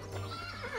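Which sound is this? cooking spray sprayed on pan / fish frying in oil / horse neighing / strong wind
horse neighing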